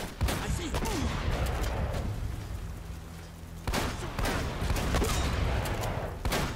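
Gunfire in the video game Uncharted: Drake's Fortune, bursts of rapid shots and sharp cracks within a dense, busy battle soundscape, loud and fairly close, with a brief lull in the middle.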